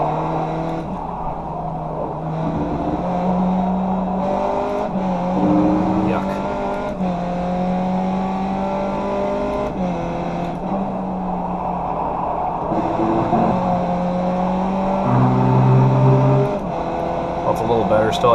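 Race car engine in the iRacing sim at Circuit Park Zandvoort, loud and continuous, rising and falling in pitch through gear changes and corners, with a driver talking over it.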